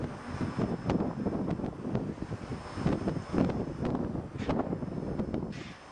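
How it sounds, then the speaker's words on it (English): Strong wind buffets the microphone on the grounds of Kaminoyama Castle in Japan, a continuous rough rumble with uneven gusting bursts, close and fairly loud with no talk. "It's very windy day."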